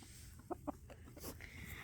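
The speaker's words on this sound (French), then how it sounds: "On se retrouve dans l'enclos des poules." Two quick, soft clucks from a hen in a henhouse enclosure, close together, over faint low background noise.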